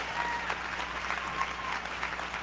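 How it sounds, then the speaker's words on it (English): Applause from an audience in a tent in Winston-Salem, a steady, moderately loud patter of many hands that holds evenly throughout without a clear rise or fade. "Everybody clap for them."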